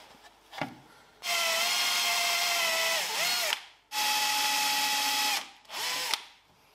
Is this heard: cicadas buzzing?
no